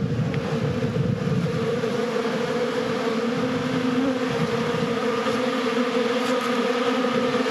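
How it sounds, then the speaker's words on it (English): Honeybees fly around their hives on a cool 59-degree afternoon outdoors, a constant buzzing drone from many insects mixed with wind rumble, steady in level and with no voices. "Bees are flying."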